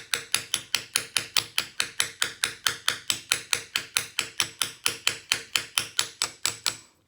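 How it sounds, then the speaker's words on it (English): A 6-speed overdrive transmission sleeve is driven onto its mainshaft by tapping it with a piece of aluminum, a steady run of about thirty evenly spaced sharp metallic knocks, close and alone. "I'm going to see if I can tap it all the way almost on with a piece of aluminum"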